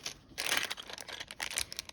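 Plastic packaging from an online nail-accessory order crinkles and rustles while items are unpacked, a close, continuous scratchy crackle in brief bursts with no talk.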